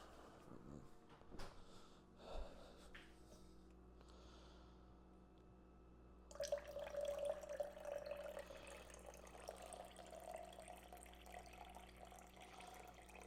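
A Brita filter pitcher being filled from a tap: quiet handling noises first, then a steady rush of running water that starts abruptly and keeps going to the end, heard close up without talk.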